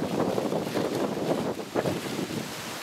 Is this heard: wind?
yes